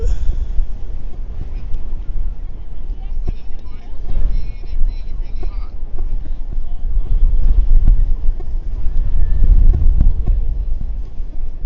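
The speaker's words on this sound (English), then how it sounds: "the wind is blowing really hard" Strong gusts of wind buffet a microphone on a Brooklyn street at Coney Island Avenue, giving a loud, rumbling roar that swells and fades with passing traffic noise while someone speaks.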